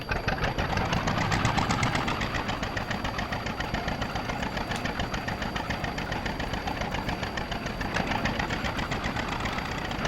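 A Zetor UR1 tractor idling in Farming Simulator 22, a steady, loud diesel chug with a fast, even knocking rhythm that holds unchanged throughout, with no talk over it.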